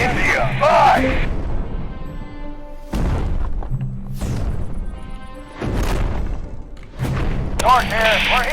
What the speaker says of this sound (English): Firing barrage at India 5.